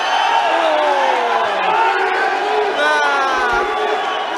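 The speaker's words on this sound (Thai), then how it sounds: "ตอนนี้เสียงเฮจากกองเชียร์โนบุโตชิเริ่มดังขึ้น" A crowd of supporters at a Muay Thai stadium cheers and roars for fighter Nobutoshi with sustained, loud whooping and shouting.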